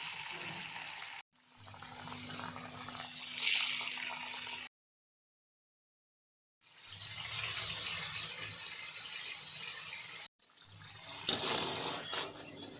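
Masala-coated potato wedges drop into hot oil and fry with a soft, steady sizzling hiss. The sizzle comes in stretches broken by silent gaps, fairly faint and with no talking over it.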